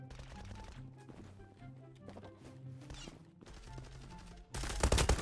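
Gunfire in the Zula competitive online shooter, bursts of rapid shots and clattering impacts over game sounds, ending in a loud harsh blast, with no talking.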